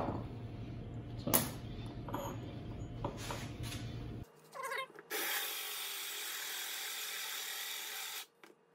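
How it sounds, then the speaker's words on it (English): A power drill bores a hole through a marble tile, a loud steady grinding whine that starts about five seconds in and holds until near the end, after a shorter burst of tool noise at the start. "What I'm gonna do is just drill this hole first"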